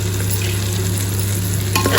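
Tomato frying with salt in a pan, a steady dense sizzle with faint stirring scrapes throughout and a slightly louder burst near the end, with no voices.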